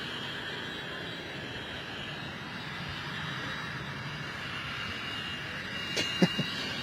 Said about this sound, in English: it was a Delta 330 from LAX